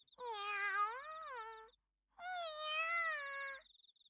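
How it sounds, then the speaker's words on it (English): Freya, a cat in the Riddle Joker visual novel, gives two long, clear meows close by, separated by a short silence, with a faint beeping tone in the background. "Freya meows blissfully as I scratch the area under her chin."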